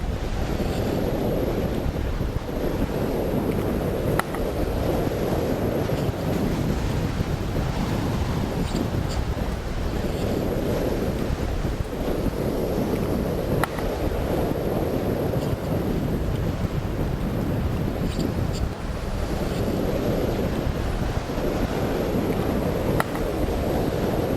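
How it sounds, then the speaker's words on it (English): A sailboat running downwind at sea gives a steady, loud roar of wind buffeting the microphone, mixed with continuous rushing water and waves along the hull and no talking. "We're sailing downwind"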